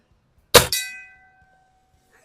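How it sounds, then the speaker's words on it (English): A single sharp metallic clang as a .22 caliber bullet from a Cometa Fenix 400 air rifle hits a steel gong, followed by a long fading ring that hums for over a second before silence. "let's hit the gong one more time"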